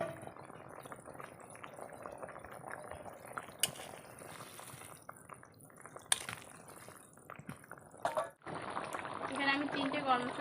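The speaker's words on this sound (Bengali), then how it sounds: "আমার জলটা ফুটে এসছে" Water coming to a boil in a pot for Bengali egg curry with potato, a steady bubbling hiss with small drips and clinks, growing louder toward the end, with a voice speaking over it.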